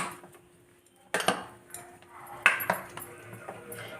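A spoon mixes idli batter with added ingredients in a bowl, giving a few sharp clinks and scraping knocks against the bowl, close and fairly quiet, in bursts separated by brief pauses.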